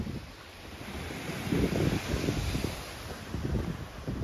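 Sea waves breaking on a sandy, pebbly beach in Budva, Montenegro, at night: a steady wash of surf with a few louder surges, under heavy wind noise on the microphone and with no talking.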